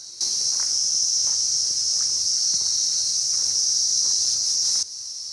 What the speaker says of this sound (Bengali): পুরো ঝিঝি পোকার ডাক দেখুন।